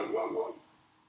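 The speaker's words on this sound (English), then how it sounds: "Sorry about my dog barking." A dog gives a single short, muffled bark that fades quickly into quiet room tone.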